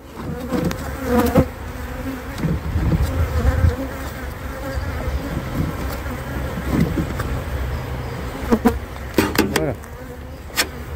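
Honeybees buzz steadily around a strong colony at a breeding and selection apiary during a spring hive inspection, with a continuous close hum and occasional clicks and handling knocks.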